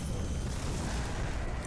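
A big gun explosion in the video game Doom 3, a loud, dense rumbling blast filling the whole moment without a break.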